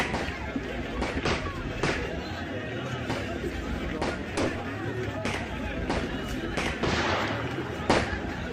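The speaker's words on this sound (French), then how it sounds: "la Bastille a donc fini par tirer un coup de canon." A cannon fires during the storming of the Bastille, with repeated sharp booming blasts and scattered gunshots ringing out over a restless crowd's murmuring chatter.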